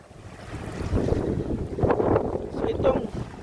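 Wind blowing by a river on a fishing trip, buffeting the microphone in gusty rumbling swells, with a voice speaking over it.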